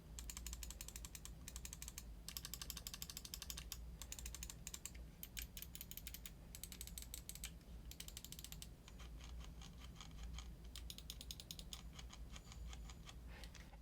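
Side buttons on an Xtrfy M4 gaming mouse clicked repeatedly in quick bursts, small sharp ticks close to the mic over a low steady hum, with no talking.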